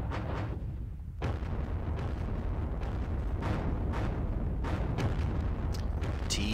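Repeated booming infantry gun and artillery fire in the Panzer Battles Kursk war game, a series of deep blasts over a constant rumbling battle din, with no talking.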